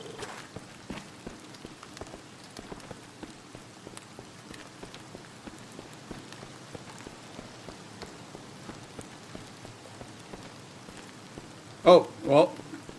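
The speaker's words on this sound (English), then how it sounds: "Oh, we needed this rain so bad." Steady rain patters on surfaces in the survival game Vein, a soft continuous hiss dotted with drops, with a short burst of voice near the end.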